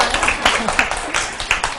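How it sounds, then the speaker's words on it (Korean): A small audience claps at a nursing civil service exam prep lecture: a short, close burst of scattered handclaps with a few brief voices mixed in. "박수 쳐주시게요?"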